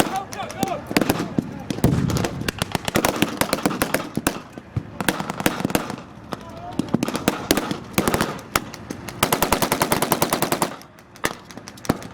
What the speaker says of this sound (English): There's an Allied Browning machine gun team.